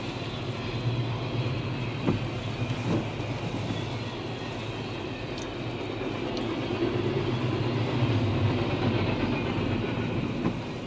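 A CSX freight train, symbol I-158, rolls through deep snow during a Buffalo blizzard, giving a continuous close rumble with faint wheel clicks and occasional sharp knocks, steady for the whole stretch; no one talks.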